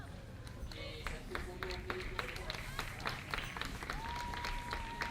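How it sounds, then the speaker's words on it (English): Crowd applause at an under-18 rugby sevens match, scattered claps rising from the stands beneath a commentator's voice, fairly faint and distant. "So what a big round of applause"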